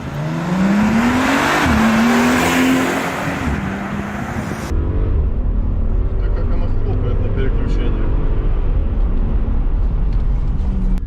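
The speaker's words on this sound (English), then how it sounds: "I turned on the sport mode, let's see what happens with these 621 horses." A Mercedes G65 V12 biturbo 6x6 accelerates hard in sport mode, its engine note climbing loudly in pitch for a few seconds before the sound cuts to a steady low cabin rumble.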